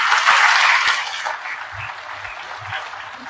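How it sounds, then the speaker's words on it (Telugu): A satsang audience in Tanuku claps half-heartedly, a brief patter that is loudest at first and then thins out and fades within a few seconds. "చాలా నీరసంగా కొడుతున్నారండి చప్పట్లు"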